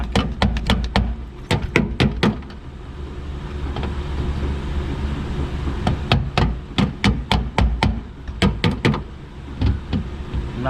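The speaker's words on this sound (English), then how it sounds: "Knock and pull at it at the same time." A Toyota Corolla tail light assembly being knocked loose from the car body: bursts of sharp thumps and rattling knocks in quick clusters, loud and close, with a calmer stretch in between.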